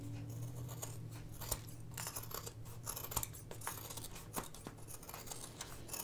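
Scissors snip fabric down to the seam allowance in a sewing room, a series of crisp, close cuts spaced irregularly over a quiet, humming background.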